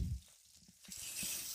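Steak sizzling as it is lifted out of a frying pan, a short crackling hiss with light clinks from the pan, close and fairly quiet, no talking.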